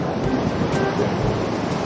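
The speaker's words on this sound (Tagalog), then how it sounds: "Nakikita nyo naman yung alon, napakalakas." Strong sea waves crash against a rocky shore behind Kaybiang Tunnel, a steady loud roar of surf with rhythmic surges and gusty wind buffeting the microphone.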